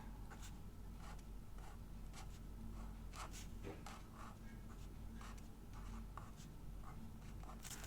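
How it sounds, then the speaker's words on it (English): Pen writing the month on a page of a reading journal, a quiet run of short scratchy strokes with brief pauses between letters, close and soft with no speech. "So we are going to write the month"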